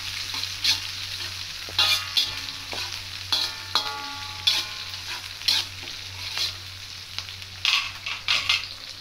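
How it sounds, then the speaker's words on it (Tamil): Onion and green chili sautéing in oil for potato masala: a steady sizzle under repeated scraping strokes of a spoon against the pan, close and even in rhythm, with a low hum behind and no voices. "வெங்காயம் 1, பச்சை மிளகா வச்சு சேர்த்து ஒன்றா எண்ணெயில் நல்லா வதக்குங்க"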